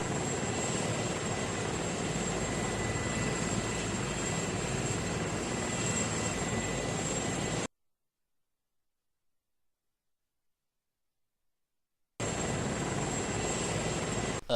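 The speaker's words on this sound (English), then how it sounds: "Another Blue Force chopper here." A UH-80 Ghost Hawk military helicopter in ARMA 3 flies with a steady, loud rotor-and-turbine drone that cuts out completely for several seconds midway, then resumes just as strongly.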